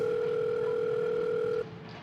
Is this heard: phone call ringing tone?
yes